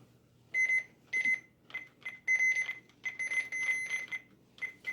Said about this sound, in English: the button beeps are really higher pitched than any of those radios